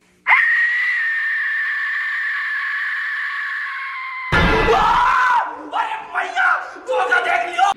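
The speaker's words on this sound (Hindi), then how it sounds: "इस सिटी को डेथ विसल भी कहा जाता है" An Aztec death whistle lets out a long, loud, piercing shriek that holds steady for about four seconds, then breaks into a harsher burst and several shorter wavering screams.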